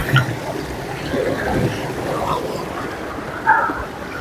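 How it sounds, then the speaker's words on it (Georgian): A loud mountain river rushes nearby in a steady, broadband wash, churning water filling the whole stretch with a constant roar and no pauses. "მდინარეს აქვს საკმაოდ დიდი ხმა."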